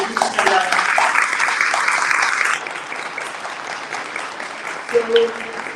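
A summit audience applauds a delegation of young women from Equatorial Guinea, dense clapping that stays loud for a couple of seconds, then thins into scattered claps with murmuring voices and a brief spoken sound near the end.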